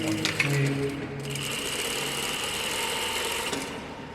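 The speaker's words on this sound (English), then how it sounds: "Place it on your machine. And we're going to do another back tack stitch." A sewing machine stitching back and forth on an elastic-waistband pair of pants gives a steady, close mechanical whir for several seconds that stops near the end.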